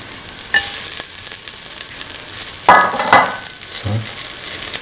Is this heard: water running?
no